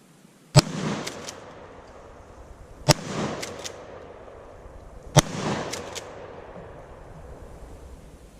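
Three loud, close shotgun blasts from a Mossberg Scorpion, fired about two seconds apart at cans staggered five to seven yards away outdoors, each followed by a short echo and metallic pings.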